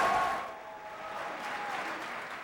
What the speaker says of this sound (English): prompted immediate and explosive applause from the audience